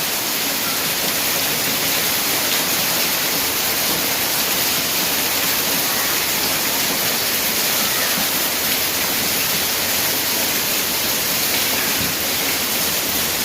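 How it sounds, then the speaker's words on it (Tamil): Sudden heavy rain pours down outdoors, a loud, dense, unbroken hiss that stays constant throughout with no voices. "திடீரென பெய்யும் மழை பாருங்க இவ்வளோ மழை"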